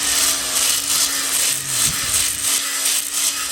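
A hone spins inside the cylinder liners of a Detroit Diesel 6-71 engine block, a steady close abrasive whir with a faint rhythmic pulsing and a low hum beneath, and no talking.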